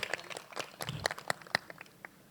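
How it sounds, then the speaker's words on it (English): Applause for the performers at a wedding reception at Seseh Beach Villas: a scattered round of hand claps from a small crowd, fairly faint and uneven, tapering off after about two seconds. "I'd like to give them another round of applause for today's performance"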